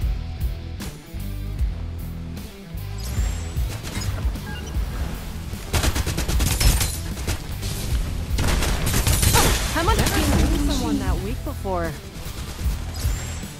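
Gunfire in Farlight 84 deathmatch mode, a shooter game, with bursts of shots and booms layered over game music and effects, loud and busy throughout.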